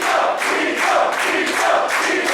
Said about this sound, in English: you hear the crowd, they don't care